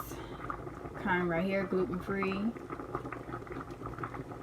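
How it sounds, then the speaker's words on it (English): Noodles boil in a pot on the stove, a continuous bubbling and churning under a woman's speech, steady and close throughout. "What you hear over here are the noodles boiling."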